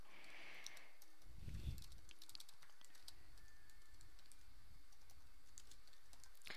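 Keys clatter quietly as a message is typed on a computer keyboard, with scattered soft clicks over a steady background hiss and a brief low thump partway through.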